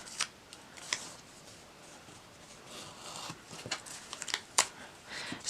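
A dollar store eraser being cut on a cutting board to make DIY stamps, with close, scattered crisp snips and scraping cuts of uneven rhythm and no speech over them.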